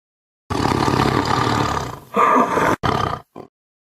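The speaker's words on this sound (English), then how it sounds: "Tiger." A tiger roars loud and close, one long rumbling roar followed by a few shorter growling bursts that tail off into silence.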